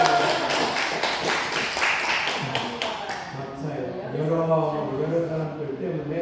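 A small gathering at a shared meal of chueotang (loach soup) breaks into a short burst of clapping, quick overlapping claps for the first few seconds, then fades into people talking and laughing.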